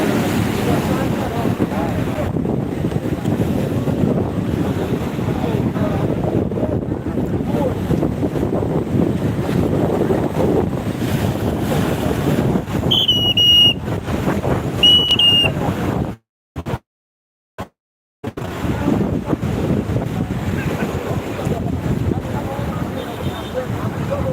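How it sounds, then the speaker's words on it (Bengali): A rough sea at high tide on Digha beach in West Bengal roars with constant wind buffeting the microphone and surging waves. The sound is loud and steady, with a few thin whistles and short dropouts late on. "এবারে উত্তাল সমুদ্র আছে"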